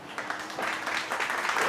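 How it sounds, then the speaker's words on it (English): A live audience bursts into applause at a talk show, a short burst of dense clapping that builds over under two seconds. "Give him a round of applause"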